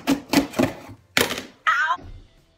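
Microphone box packaging being ripped open for an unboxing: several sharp tearing and thumping bursts in a quick uneven rhythm, close by, followed by a short higher-pitched rip, with no speech over it.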